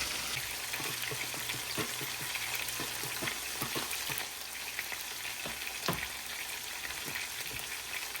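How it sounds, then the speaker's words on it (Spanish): Broccoli fries in butter in a pan with a constant crackling sizzle, while a utensil stirs it in scattered light scrapes and taps, one sharper knock near the end, fairly quiet and with no voices. "le voy a agregar un poquito de mantequilla y los voy a mezclar para que se estén agarrando un poquito de sabor"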